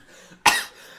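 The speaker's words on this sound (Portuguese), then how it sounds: "Me deu uma crise de tosse." One sharp, sudden cough from a coughing fit bursts out after a moment of quiet, then fades into faint room noise.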